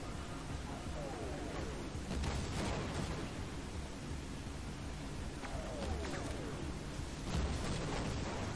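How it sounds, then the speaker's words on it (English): Muffled blasts and booms recur over a dense, noisy background, some crackling bursts standing out amid steady rumble, explosions in a Half-Life game. "Explosions."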